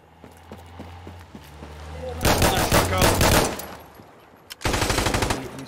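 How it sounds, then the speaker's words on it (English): Bursts of automatic gunfire in a multiplayer shooter video game, a loud rapid volley followed by a second burst after a short lull, with a faint talking voice in the quieter stretch. "Stop shooting at me!"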